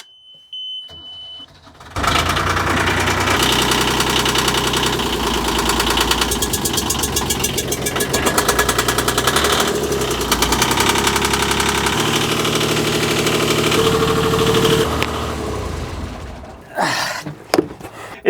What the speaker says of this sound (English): Now to go and actually start the engine